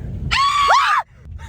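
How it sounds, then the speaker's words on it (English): A person lets out one loud, high, sustained scream lasting under a second, close up, before it cuts off abruptly. "I had to scream."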